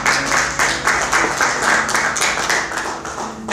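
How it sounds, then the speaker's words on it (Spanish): A church congregation gives a hearty round of applause during a Bible class on the Book of Daniel, close, rhythmic clapping in uneven pulses that swells and eases slightly over a few seconds, with no speech over it. "Denle un fuerte aplauso al Señor, amén."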